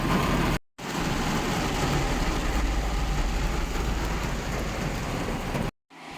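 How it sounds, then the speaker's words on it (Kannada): Heavy rain pours down in a dense, steady roar, drumming loudly on surfaces throughout with no voices. "ಸಿಕ್ಕಾಪಟ್ಟೆ ಮಳೆ ಬರ್ತೈತೆ"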